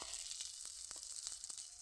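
Cauliflower fritters sizzle gently in a shallow layer of oil. A soft, steady hiss is broken by small irregular pops and crackles, heard close up.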